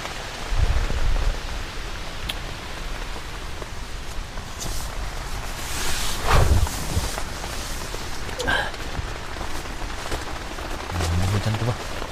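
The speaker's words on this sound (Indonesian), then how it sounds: "Hujan tuh bang." Heavy rain and wind pound a camping tent in a steady, dense hiss that fills the whole stretch, with a few louder gusts and knocks and a voice speaking briefly under the downpour.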